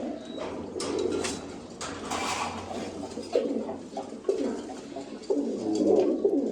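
Pigeons kept in a fancier's loft give low, repeated throaty coos nearby, several birds overlapping in soft rolling phrases, with a few scuffs and faint background noise.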